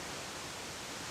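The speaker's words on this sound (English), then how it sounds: "I can get the waterfall as it's pounding down" Nandroya Falls pounds down in a continuous broadband roar of falling water, steady and unbroken, heard at a moderate distance with no talking.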